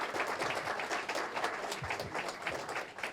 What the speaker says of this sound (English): Let's give a big round of applause to Abington Middle School.